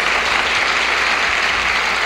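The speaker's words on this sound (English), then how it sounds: "And the audience applauded" Studio audience of a 1976 television game show applauding, a steady, even wash of clapping from many hands that holds throughout without any talk.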